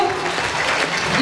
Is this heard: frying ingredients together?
no